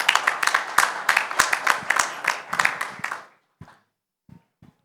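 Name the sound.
audience applause for the host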